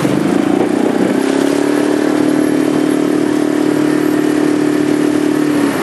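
A motorboat engine on the water during a windsurfing course at Pasohlávky drones loudly and steadily, its pitch climbing slightly in the first second and then holding a constant throb to the end.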